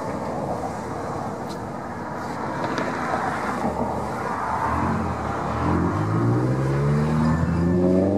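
A line of cars pulls away one after another from a nuclear laboratory site, giving a steady rumble of road noise that builds as an engine revs up audibly near the end.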